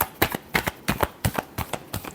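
A deck of tarot cards is shuffled in quick riffling bursts, a regular run of crisp flicks and slaps close to the mic, with no one speaking.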